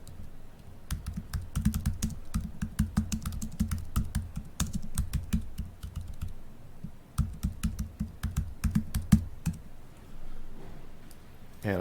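Rapid keystrokes clatter on a computer keyboard as a note is typed, uneven bursts of crisp clicks with short pauses between words, close and clear with no talking.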